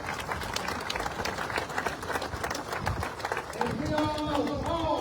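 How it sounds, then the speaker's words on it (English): A crowd applauds with dense, steady clapping, and a voice begins speaking over it toward the end. "Give a round of applause, please."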